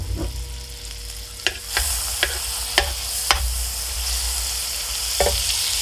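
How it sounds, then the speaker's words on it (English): Two tablespoons of butter sizzle in a pan heated on medium while Cajun scallops are prepared, with a steady frying hiss and several sharp spatter pops spread across the clip, no voices. "Now we're going to go ahead and add in 2 tablespoons of butter."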